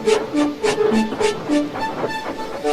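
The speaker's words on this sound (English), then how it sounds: "James puffed away as quickly and quietly as he could." A steam engine puffs steadily along a railway in a steady, rhythmic series of chuffs, a soft melodic tune playing alongside.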